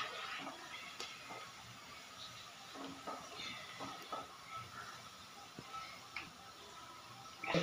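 Khasta goja sweet pastries frying in oil over low heat, a soft, steady sizzling hiss broken by scattered small pops and ticks, faint and close.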